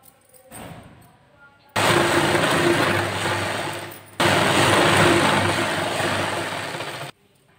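Sewing machine stitching the seams of an Afghani salwar, running loud and steady in two long bursts with a brief pause between, after a quieter start.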